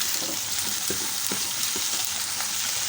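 Ivy gourd frying in a pan with turmeric and salt gives a steady, close sizzle with a few soft stirring knocks, and no voices.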